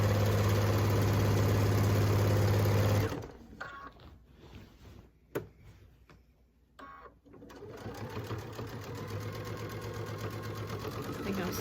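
A sewing machine runs fast on quilt binding, a loud steady whir for about three seconds that stops abruptly, followed by a few clicks and knocks before a quieter mechanical hum resumes.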